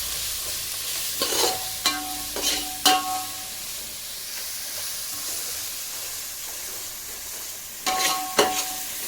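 Ginger garlic paste sizzles faintly in a pan for crab biryani, a soft steady frying hiss broken by a few clinks and scrapes of stirring.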